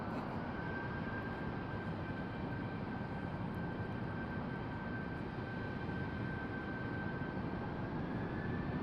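A general aviation aircraft comes in to land at Raleigh Durham airport, a faint, steady engine drone with a thin sustained tone, distant and unbroken throughout.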